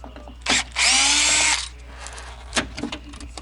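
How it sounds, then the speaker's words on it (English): A power drill backs out speaker screws inside a 2000 Jeep Cherokee, with two short close whirring bursts, the second running about a second, then a few clicks and handling knocks. "Almost done with 1 speaker. 2 screws to go. Go ahead and take these out."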